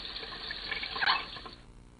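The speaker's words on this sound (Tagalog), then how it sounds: "Maghugas lang ako ng kamay ah." Water runs from a sink tap during handwashing, a steady close hiss with a brief splashier surge near the middle before it tapers off.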